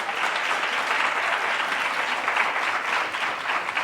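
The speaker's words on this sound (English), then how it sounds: "let's give a huge round of applause for our leader, Jamar Rahman" Steady applause from an event audience, honoring a leader at an evening program with actress Lynn Whitfield, sustained dense clapping at even loudness throughout with no voices over it.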